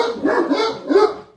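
A pet dog barks three times in close succession, near and moderately loud, with a yelping, slightly whiny tone and no talk over it.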